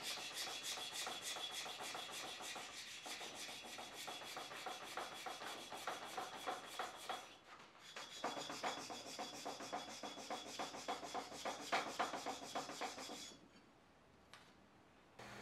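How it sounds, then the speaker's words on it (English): Steady abrasive rubbing and rasping as scale is cleaned off a heat-treated steel knife blade made from scrap, continuous and close with a brief break midway before it resumes and then fades out. "I'll clean off the scale that's formed during heat treating"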